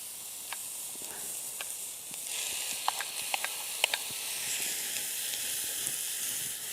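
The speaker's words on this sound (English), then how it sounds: "I'm going to go ahead and start adding my hamburger and bacon and brown that really good" Hamburger and bacon browning in a hot Dutch oven give a soft, steady sizzle with scattered small pops and crackles, heard alone at fairly low volume.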